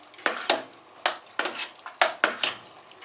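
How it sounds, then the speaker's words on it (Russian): Eggplant caviar stirred in a pot, a series of close, rhythmic scraping and clinking strokes of a spoon against the pot with a faint simmer beneath, no voices. "Перемешиваем."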